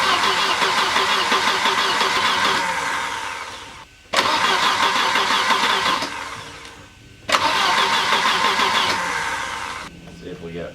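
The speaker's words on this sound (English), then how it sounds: "Alright, I'm going to turn the ignition." A 1989 Volvo 760 Turbo engine cranks loudly in three long bursts of several seconds each, separated by brief pauses, without catching, with a voice briefly audible.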